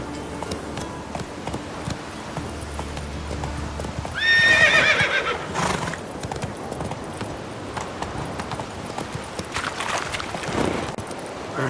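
Horse in The Witcher 3 video game with clip-clop hooves and a loud whinny partway through, set over a steady game ambience.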